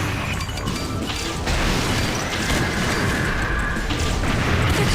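Explosive booms and crashing blasts from an enemy missile in the 3DS game Liberation Maiden, loud and dense under a steady roar of game effects and music.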